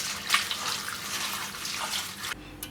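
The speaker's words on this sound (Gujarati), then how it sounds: "તો આ પહેલાં આપણે આ પૌવા છે એને આપણે ધોઈ નાખીશું." Flattened rice (poha) being washed, water splashing and running steadily in a bowl or sink at close range, stopping abruptly near the end.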